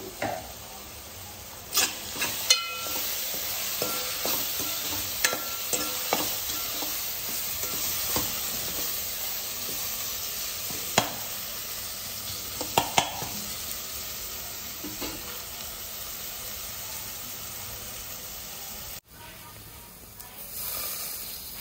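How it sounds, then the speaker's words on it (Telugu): Onions frying in a pan for a tamarind fish curry, a continuous sizzle broken by repeated scraping stirs and clinks of the spatula, close and fairly loud, no speech. "ఆనియన్ బాగా ఫ్రై అయ్యాక రామలు వేసేస్తున్నారు"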